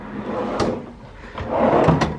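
Hotel room drawers sliding open and shut, two close knocking bumps with a rustling slide between them, alone with no talk.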